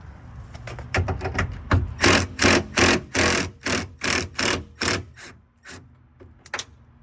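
Window regulator bolts being loosened inside the door of a 2000–2006 Chevrolet Tahoe or Silverado make a run of sharp ratcheting clicks, slow at first and then in rapid even bursts, close up and dry, with no voices.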